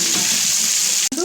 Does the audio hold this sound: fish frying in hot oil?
yes